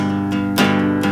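Open guitar strings ring out together in a sustained, bright chord, with a couple of soft strums refreshing the sound.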